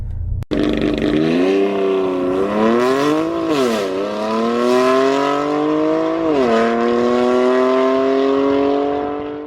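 A BMW F90 M5 Competition accelerates hard at full throttle, its engine note climbing steadily and loudly through the gears with short dips at each shift, heard up close and alone for the whole stretch.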